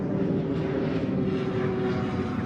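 A propeller airplane drones steadily overhead above the Brazilian Amazon, a continuous loud engine hum with a sustained tonal whine holding level throughout, no voices.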